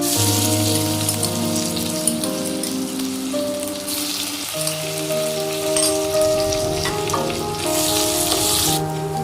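Ginger-garlic paste fries in a pan of hot oil for a restaurant-style spicy paneer curry, giving a steady, dense sizzle that crackles continuously throughout, with soft music tones running underneath.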